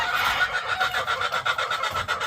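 A breeding hen, the sixth brood hen of an Ilgama gamefowl line, clucks close by in a quick run of rhythmic, pulsing clucks that keeps going steadily without pause.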